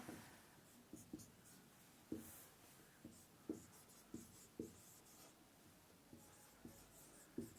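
Chalk or a marker writes the next topic on a board in a physics lesson, giving a faint series of quick scratching strokes and taps at an uneven rhythm, with no talking.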